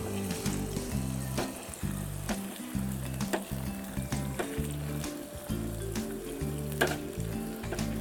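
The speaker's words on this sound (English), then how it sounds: "Now what we are cooking is the small onions." Small onions fry in a pan at a food stop in Ambalangoda, giving a steady, close sizzle that runs through the whole stretch over a low, droning background hum.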